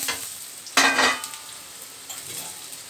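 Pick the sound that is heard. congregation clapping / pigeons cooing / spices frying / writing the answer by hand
spices frying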